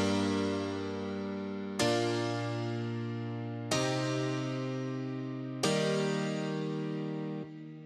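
Four stretched-out synth chords in the middle eight of a dance-pop remix, each one sustained for about two seconds with a sharp attack before the next chord lands.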